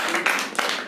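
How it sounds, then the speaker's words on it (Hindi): Students in a school classroom clap together in a short, loud burst of applause, close and dense, with brief pulses of clapping. "चलो इसलिए अपने लिए एक जोरदार ताली"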